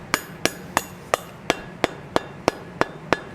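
A hammer striking a forged, welded iron ring for a gothic door knocker, ten sharp ringing blows at an even, steady pace, close and clear with no talk.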